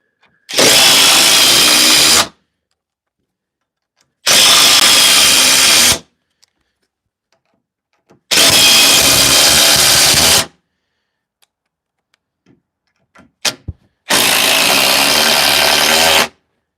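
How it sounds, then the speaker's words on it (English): Four bursts of a cordless impact driver running, each roughly two seconds long and loud and close, separated by quiet gaps with a few small clicks and taps. "I hope that impact noise is not unbelievable on the audio."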